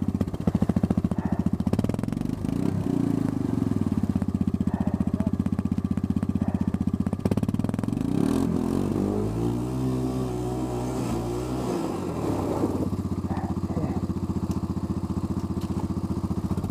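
A Honda 350 motorcycle engine being revved while winched out of deep ice, running loud and steady throughout with a rising then falling surge of revs near the middle.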